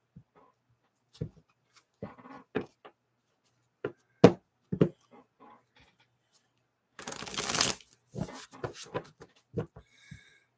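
Tarot cards being shuffled in short bursts of riffling and tapping, with a louder, longer riffle partway through; close and otherwise quiet.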